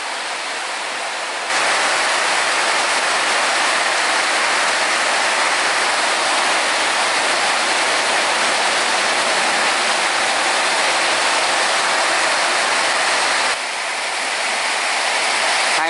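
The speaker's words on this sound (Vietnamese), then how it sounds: "Mưa quá lớn các bạn ơi." Heavy storm rain pours down loud and steady, a dense continuous roar that swells after a moment and holds at full strength for most of the stretch before easing slightly.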